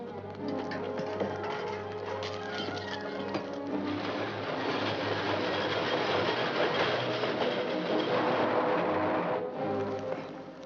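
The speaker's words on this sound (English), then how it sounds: "Sounds like a train now." A train rumbles past with rhythmic clattering of wheels on rails, loud and continuous, building slightly before easing off at the end.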